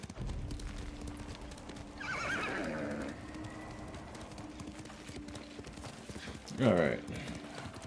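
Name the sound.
horse neighing and hooves clip-clopping in the video game Ghost of Tsushima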